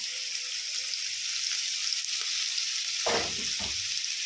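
Onions and thin-sliced green chillies frying in a pan for an egg curry, giving a steady close sizzle throughout with a couple of louder stirring scrapes near the end.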